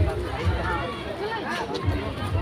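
Crowd of visitors at the Jubilee Park light show in Jamshedpur, a steady outdoor hubbub of many voices and footsteps at moderate level, with no single voice standing out.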